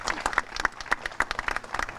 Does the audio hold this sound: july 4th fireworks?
no